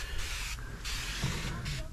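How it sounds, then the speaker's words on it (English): Sprayway glass cleaner hisses from an aerosol can in a few short close bursts onto the floor pans of a squarebody Chevrolet C10 pickup. "Spray it on, wipe away."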